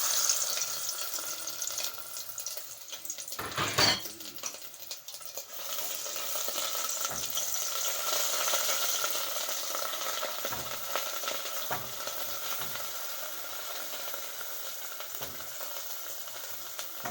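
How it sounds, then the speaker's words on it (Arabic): Minced, squeezed onion seasoned with salt and pepper hits hot oil in a pan, giving a steady close sizzle and frying hiss throughout, with a sharp burst of crackle near the start as it goes in and occasional stirring knocks. "هبدأ بقى ان انا انزلها على الزيت"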